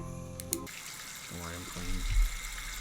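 Water runs in a scene from Breaking Bad, a soft continuous trickle and hiss under intermittent voices, with a short sharp knock near the start.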